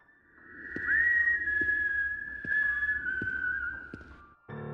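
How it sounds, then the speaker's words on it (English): A clear, high whistled melody carries over several seconds of sustained and sliding notes, with soft knocks and background noise underneath. "It was whistling. Not the cry of some bird, but the high, clear notes of some unfamiliar tune."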